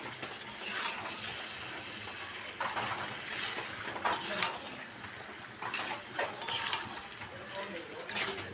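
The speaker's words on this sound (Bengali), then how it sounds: "তবে মশলাটা আগেই ভালো করে ভেজে নিতে হবে" Spice paste frying in a pan for a vegetarian lentil-fritter curry, with faint sizzling under intermittent scraping and stirring clatter of a utensil against the pan, close and fairly quiet throughout.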